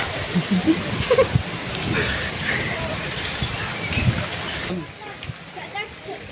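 Steady rain hissing throughout at Srikalahasti temple, with a few brief voices speaking near the start before the downpour continues alone.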